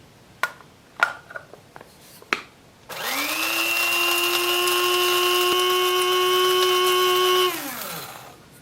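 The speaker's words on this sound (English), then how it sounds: "pick up your wood chips and put them in the coffee grinder" A small electric coffee grinder grinding wood chips whirs loudly and steadily for several seconds, then spins down, after a few light taps and clicks.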